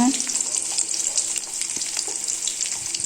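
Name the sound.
onion frying in pan for beetroot poriyal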